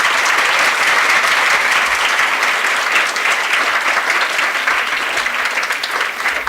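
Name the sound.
audience applause for a teacher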